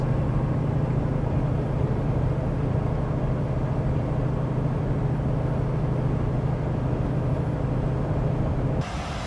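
A custom truck cruises along with a steady, loud low drone of engine and road noise and a constant tonal hum, running unbroken until the sound drops away abruptly near the end.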